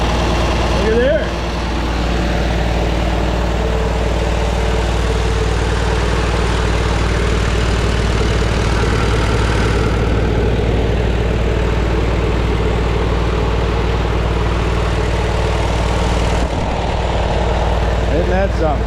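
A Farmall Super A tractor engine idles steadily at close range, a low, even rumble that runs almost unchanged for the whole stretch, with a brief dip near the start and another near the end.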